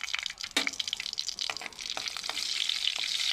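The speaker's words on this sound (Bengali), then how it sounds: "সামান্য একটু তেল ইমান মজার উপর আমি শুকনো মরিচ ভাজছি" Dried chillies fry in a little oil, a close bubbling sizzle with scattered crackles that settles into a steady hiss.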